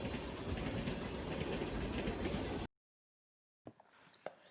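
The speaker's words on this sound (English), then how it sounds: "This is what I referred to as the NS tractor train in my video title at the time that I shot this train." A Norfolk Southern freight train rolls past close by with a dense, steady rumble and rhythmic wheel clatter, then cuts to silence before a few faint knocks and clicks follow.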